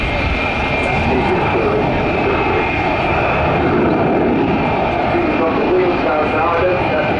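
Avro Vulcan jet bomber at the RIAT 2013 air display, a loud, steady broadband engine roar that holds throughout, with a commentator speaking over it on the public address.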